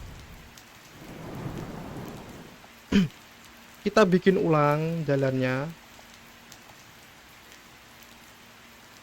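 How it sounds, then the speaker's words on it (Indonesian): Rain falls steadily in the city-building video game TheoTown, a soft constant hiss under someone speaking Indonesian. A low rumble of thunder swells early on, and a sharp click follows. "Waduh, kenapa waktu hujan sih?"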